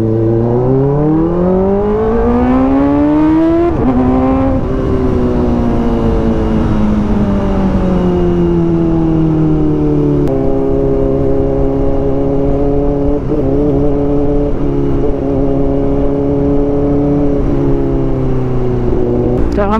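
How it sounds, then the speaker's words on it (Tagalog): A Kawasaki ZX-4RR motorcycle fitted with a loud SC-Project exhaust rides along, its close, steady engine note loud throughout as revs climb, dip and shift through gears. "Ngayon na lang ulit tayo nasa isa motor na grabe mag-ingay."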